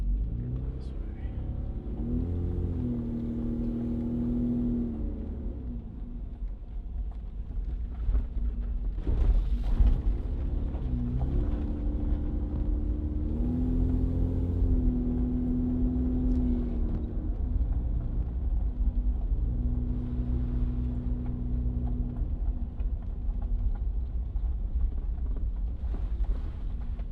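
A Toyota Land Cruiser FJ80 drives along with a steady low engine rumble and shifting drone as it accelerates and settles, continuous and close from inside the cabin throughout.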